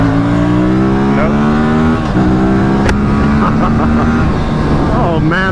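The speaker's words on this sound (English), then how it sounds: "Getting to ride the Aprilia RS 457." An Aprilia RS 457 motorcycle engine revs loudly while being ridden, harmonic pitch rising and falling through gear changes, close and continuous with wind and road noise.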